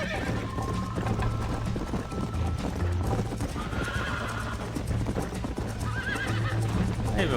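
Horse hooves gallop in a steady clip-clop across Red Dead Redemption, mixed with whinnies and a sustained game music drone, with faint voices underneath.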